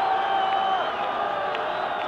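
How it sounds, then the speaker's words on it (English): Spectators at a 1968 Wales versus Argentina B rugby match in Argentina roar continuously during extra time, a dense distant wash of cheering with faint whoops rising briefly above it. "And the crowd really getting excited now."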